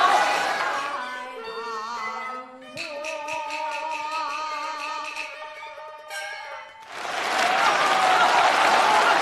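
Beijing opera audience bursts into applause and cheers at the start and again at the end, framing a passage of sustained, sliding sung and instrumental tones from the stage.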